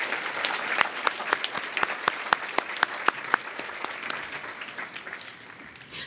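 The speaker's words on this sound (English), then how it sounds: "Please join me in a round of applause for these women." An audience at an award ceremony applauds past recipients of the honor, a steady patter of many hands with a few sharp nearby claps, tapering off toward the end.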